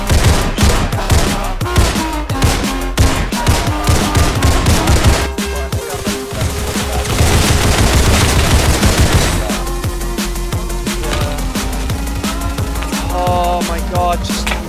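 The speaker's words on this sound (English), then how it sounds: "There's somebody with a upgraded UMP shoot." Rapid bursts of upgraded UMP submachine gunfire ring out during a Halloween match of the Roblox game Criminality. The shots are loud and dense, mixed with busy in-game sounds and music throughout.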